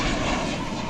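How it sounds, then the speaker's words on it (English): A fixed-wing airliner at DFW airport roars through a takeoff run on the runway, a loud, steady, broadband engine rumble with no voices. "See a plane there taking off from the east side."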